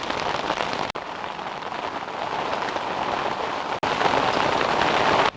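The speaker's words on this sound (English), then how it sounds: "an intense rain squall just arrived" An intense rain squall pours down steadily in a dense, hissing roar, close and loud throughout.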